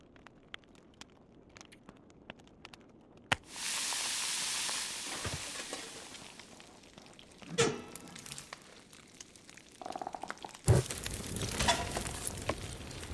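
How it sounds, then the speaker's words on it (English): Fish cooking over a campfire in the survival game The Long Dark: quiet crackles, then a sudden steady sizzle that fades, followed by crinkling bursts and a louder hiss near the end, with no talk. "I'll put the fish up there to start it cooking first"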